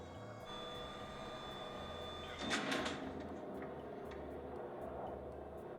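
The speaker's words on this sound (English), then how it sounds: "Every 18 hours, this door opens up." Alien spacecraft door in the film Arrival opening: a low mechanical hiss and rumble swells briefly over a droning, tense ambience, then fades back into the hum, moderately loud with no speech.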